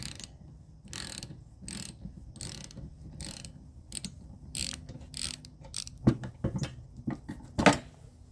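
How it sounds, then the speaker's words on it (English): Ratcheting clicks from a socket wrench tightening a gear puller to draw the wiper arm off a 2014 GMC Acadia, short bursts of metallic ticking in an irregular rhythm, close and clear, with a couple of sharper clanks near the end. "go ahead and use your socket to gently pull the arm off as you tighten it in"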